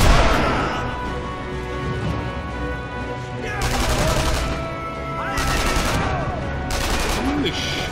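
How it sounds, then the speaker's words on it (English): Gunfire in a first-person video game about hunting Nazis, with dense bursts of automatic fire and repeated shots, loud and close, mixed with game effects over several seconds. "Who is shooting me from where?"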